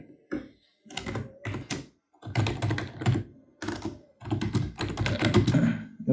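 Bursts of fast typing on a computer keyboard while text is entered into an MS Word table, clustered runs of clicky keystrokes separated by short pauses, close and clear with no voices.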